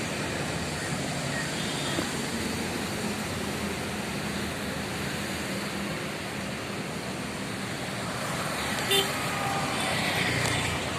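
A Maruti Ertiga drives through traffic with a constant low road and engine rumble, then a brief horn toot near the end. No one speaks.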